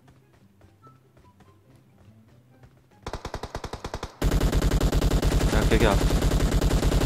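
Automatic gunfire in PUBG Mobile on the Sanhok map: quiet footsteps first, then a loud burst of rapid shots that turns into dense, sustained fire, with a brief voice heard over it.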